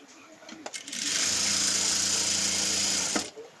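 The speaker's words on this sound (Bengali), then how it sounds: "এই কাঁধটা আমি এই সুন্দরভাবে সেলাই করে ফেললাম" A sewing machine runs steadily for about two seconds while it stitches a shoulder seam on a garment. A few soft handling clicks come before and after, and it is fairly quiet overall.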